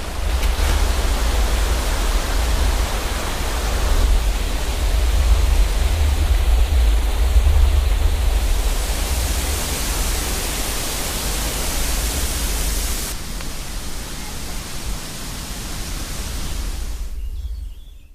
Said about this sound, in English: Listen to the raging waterfalls.